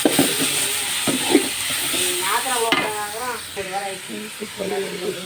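Ground masala for a Tamil goat intestine curry sautéing in a pan, with a continuous hissing sizzle and stirring scrapes throughout, close by, while a person speaks over it.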